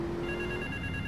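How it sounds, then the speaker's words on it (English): An in-game telephone ringing in the video game Grand Theft Auto 3, a steady electronic ring tone heard briefly over a continuous background bed of game sound, with no talk. "Oh, phone's still ringing."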